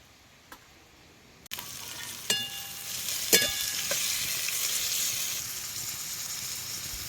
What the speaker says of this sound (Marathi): आता हे बी तेला चांगलं भाजून घ्यायचं